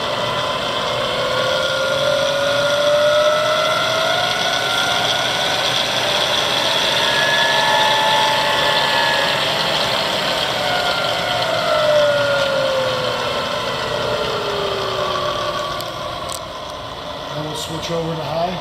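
A Bridgeport 1-1/2 HP 9 x 42 inch vertical milling machine runs in low speed, a loud steady motor hum with slowly gliding whine tones and light rattle, easing off near the end.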